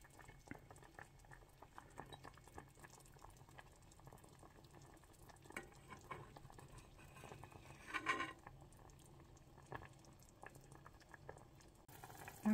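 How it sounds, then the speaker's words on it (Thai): Pork cartilage simmering in a pot of soup, a soft steady bubbling and patter that stays fairly faint and close throughout, with a slightly louder burst of bubbling midway and no talking. "ก็จะต้มให้กระดูกอ่อนหมูเขาเปื่อยก่อนนะคะ"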